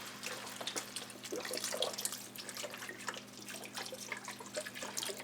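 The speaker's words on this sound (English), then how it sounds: "now let's add our chicken broth" Chicken broth, 48 ounces of it, streams into a big pot of Hungarian red kidney bean soup, a continuous splashing pour with small trickles and drips under a low steady hum.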